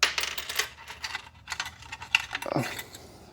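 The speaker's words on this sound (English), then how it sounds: "So the centering keys go right in here on each side." Centering keys for the condenser of a Zeiss Axio Lab 5 clinical microscope slide into place on each side, giving a few small, close metallic clicks and taps, with a brief scrape near the end.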